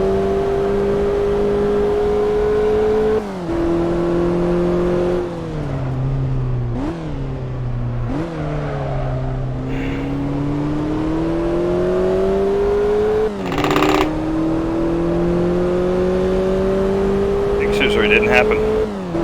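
Simulated race car engine lapping Tsukuba circuit in a racing video game, a loud continuous whine rising and dropping through gear shifts and lifts, with someone talking over it.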